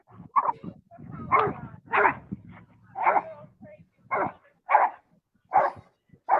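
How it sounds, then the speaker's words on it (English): A dog barks repeatedly indoors, about nine sharp, fairly close barks in an irregular rhythm with short gaps, some sounding whiny and yippy. "He's going to start barking."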